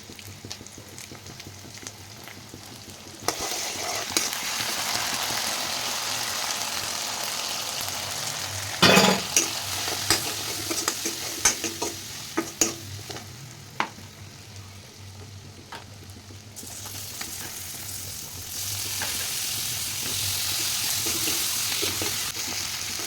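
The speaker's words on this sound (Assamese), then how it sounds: "এতিয়া মই আলুখিনি প্ৰথমতে ফ্ৰাই কৰি লওঁ" Potatoes fry in hot oil in a home kitchen, a steady close sizzle that swells louder after a few seconds, with clattering stirs and scrapes scattered through the middle.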